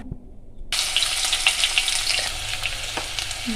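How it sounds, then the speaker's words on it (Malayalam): Crushed ginger, garlic and shallots hit hot oil and burst into a loud, steady sizzle after a brief quiet start, with occasional faint clinks of a utensil in the pan and no voices. "ഇഞ്ചി വെളുത്തുള്ളി ചെറിയ ഉള്ളി ചതച്ച് വെച്ചേക്കുന്നതാണ് അത് എണ്ണയിലേക്ക് ഇട്ട് കൊടുക്കാം"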